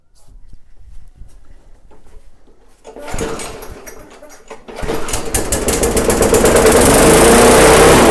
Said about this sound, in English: if I start it up and it, sounds like a normal lawnmower